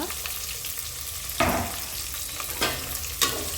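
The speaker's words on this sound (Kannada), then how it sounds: "ಇದು ಚೆನ್ನಾಗಿ ಫ್ರೈ ಆಗಬೇಕು" Onion, green chilli, ginger and garlic frying in a pan, a steady moderate sizzle broken by three distinct scrapes of a stirring spoon against the pan, no speech.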